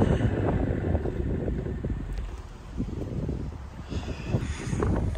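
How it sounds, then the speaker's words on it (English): Heavy wind buffeting the microphone in continuous low rumbling gusts, loud and close, with no voices. "Super windy, bro"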